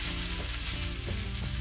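Bluefish cakes fry in a hot pan with a steady, close crackling sizzle and a few soft bumps, no voices.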